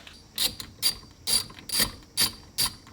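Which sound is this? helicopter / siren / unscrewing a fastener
unscrewing a fastener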